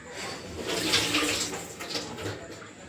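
Water drains off soaked chana dal in a home kitchen, a close, rushing splash that swells and fades over a few seconds with no talking.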